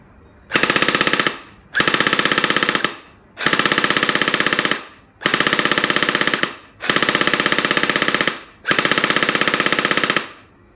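He-E ACR airsoft gun firing full auto in six sustained bursts of about a second and a half each, separated by short pauses, loud and close with a fast even rattle and no talking.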